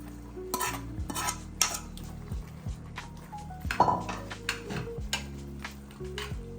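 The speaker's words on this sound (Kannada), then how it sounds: "ಇವಾಗ ತೊಳೆದಿರುವಂಥ ಒಣಮೀನನ್ನು ಹಾಕ್ತಾ ಇದ್ದೀನಿ." Washed dry fish tipped into boiling masala gravy and stirred, with close scraping and clinking of a spoon against the pot in uneven strokes and a soft bubbling sizzle underneath.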